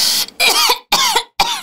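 Three loud, harsh coughs from a man, spaced evenly and close to the microphone, each a short rasping burst separated by brief silence.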